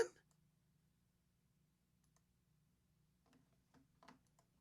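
Faint, sparse computer keyboard clicks, a few scattered taps near the end after a quiet stretch, with a low steady hum underneath.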